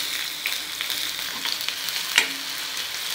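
Finely chopped medium onion drops into hot oil with toasted cumin seeds and fries on high flame. It gives a close, steady crackling sizzle with stirring scrapes and one sharper clink, and no voices.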